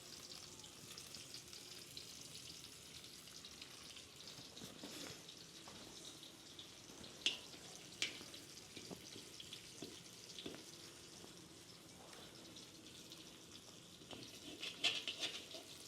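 Cumin seeds sizzle steadily in hot ghee in a pan, a continuous close crackling hiss with a few sharper pops scattered through, no voices over it.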